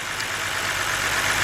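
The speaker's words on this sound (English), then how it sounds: "you can see the engine shaking. It's got a misfire." A 2010 BMW 528i with the 3.0-litre engine idles with a cylinder #4 misfire, giving a steady, close mechanical drone with a faint uneven knock underneath, heard alone for a short moment.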